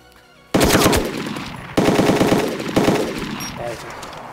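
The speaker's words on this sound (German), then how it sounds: "Ich hab voll gegen Stein geschossen, ich Idiot." Automatic gunfire from a gun in the video game DayZ rings out in three loud bursts of rapid shots, each ending in a decaying echo, close and sharp, with a quieter pause before the first burst.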